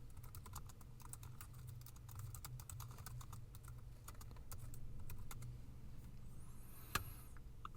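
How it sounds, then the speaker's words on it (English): A card number being typed on a computer keyboard: a quick run of light, close clicking keystrokes over a low steady hum, ending with one louder tap, with no talk. "I'm just going to type it in like this."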